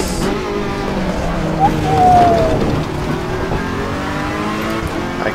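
A race car in Assetto Corsa Competizione brakes hard, with a steady engine drone and a short tyre squeal rising midway, loud and continuous with no talking.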